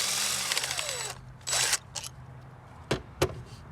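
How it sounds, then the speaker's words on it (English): A cordless impact driver works a bolt loose on a 2013 Ford Fusion, giving a whirring run for about a second, then short bursts and a couple of sharp clicks, close and fairly quiet. "I have an impact driver, and here, get on there"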